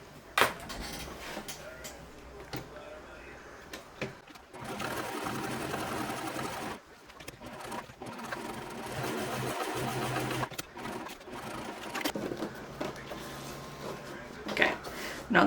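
A sewing machine stitches around the outside of a concealed-carry purse, running in bursts of rapid mechanical whirring broken by short pauses, close and clear, with occasional handling clatter.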